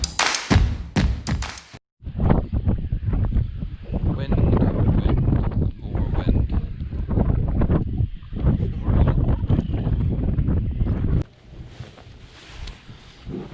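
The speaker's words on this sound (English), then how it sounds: "Wind, more wind." Wind on Lough Erne blasting the microphone in heavy, uneven gusts with thumps and buffeting, loud and close almost throughout before easing near the end.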